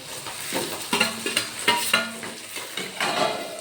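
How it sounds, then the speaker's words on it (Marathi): Peas frying in oil with a soft sizzle, broken up by repeated scraping and stirring clatters from a utensil against the pan. "मटर शिजत आहे तेलामध्येच टाकले आहे मटर वगैरे"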